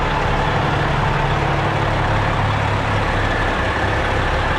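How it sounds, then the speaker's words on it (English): Fire truck exhaust idling close by, a steady loud low rumble with constant broadband hiss and no change throughout. "it's kind of loud here because of the exhaust of the truck there"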